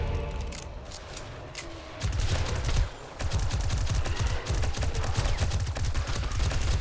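Gunfire in the 7 Days to Die zombie survival game during a snowy horde night, with rapid bursts of shots fired in quick succession, louder and denser after a short pause, continuing almost unbroken to the end.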